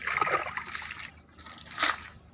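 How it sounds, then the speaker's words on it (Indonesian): Water splashes and trickles onto hard ground as soil is watered, in two uneven bursts of spattering flow at close range. "kita memulai tentu dengan menyiram dulu sedulur, karena memang ini relatif tanah keras"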